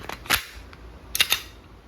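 Umarex Glock 17 Gen 5 MOS CO2 airgun firing 4.5 mm steel BBs, sounding as sharp close pops: one crack early, then two quick shots about a second later, each followed by a faint click.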